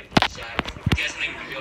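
Gunshots ring out in a one-on-one video game match: three sharp, close bangs spaced irregularly over under two seconds, the last two nearly back to back.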